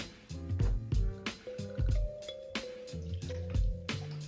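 Vodka for a Cosmopolitan cocktail being poured into a cocktail shaker: close, gurgling, dripping splashes with rising, bubbly tones over a few seconds and no voices.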